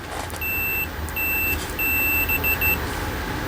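A multimeter in continuity mode tests bullet capacitors on a RAM card of a 1980 Midway Space Zap arcade board, giving several high steady beeps of varying length, clear over a low background hum, no talking.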